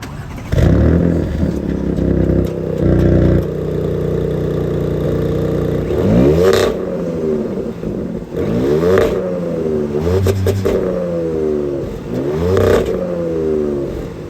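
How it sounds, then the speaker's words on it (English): A 2020 Audi S7 Premium Plus with a twin-turbo V6 and quad exhaust tips starts up loudly and then revs hard several times, each blip sweeping up and falling back to a throaty idle, close to the tailpipes. "let me start up the car and I'll show you guys what that sounds like."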